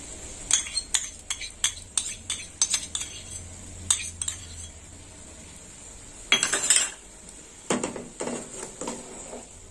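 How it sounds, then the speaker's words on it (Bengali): A metal spoon scrapes and taps cashew paste off into a pan of mustard-sauce pointed gourd, a run of quick clinks followed by longer scraping strokes, close and without talk. "চামচ দিয়ে চেঁচে নেব"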